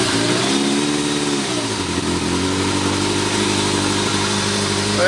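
A Kawasaki ZRX 1200R motorcycle with a newly installed ignition advancer runs after starting, its engine revving briefly then settling into a steady, close, rumbling idle with no talk.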